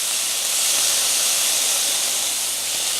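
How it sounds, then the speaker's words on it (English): White shrimp steam and sizzle in a hot pan with a squeeze of lemon, a loud, steady hiss filling the whole stretch, close and unbroken. "that's going to help them steam and give it a little bit of extra flavor"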